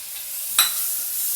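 Tomatoes sautéing in a pan for Kerala-style beef curry with koorka, giving a steady soft sizzle and one brief stir or clatter partway through, with no one talking.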